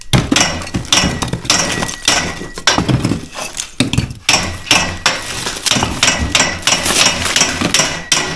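A hammer strikes steel on a structural steel job in a rapid, irregular series of loud, ringing metallic blows, with brief pauses between bursts.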